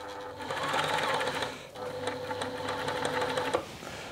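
A Tony CM 500 sewing machine runs at a steady pace stitching fabric, its close, rapid mechanical clatter continuing with one brief pause midway.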